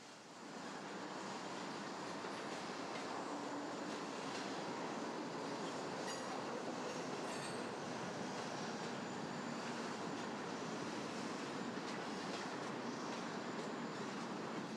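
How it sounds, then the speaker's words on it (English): An eastbound Wisconsin Central freight train heading for Markham Yard rolls steadily past at Burlington Northern's Union Avenue interlocking in Chicago, a loud continuous rumble with brief wheel squeal and clatter near the middle, no voices. "This Wisconsin Central eastbound is headed for Markham Yard, IC's freight yard in the south suburb of Homewood."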